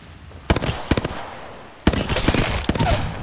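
Sharp, loud bursts of weapon fire in a competitive shooter video game, with a few close, quick volleys, a brief pause, then a longer, denser string of rapid shots.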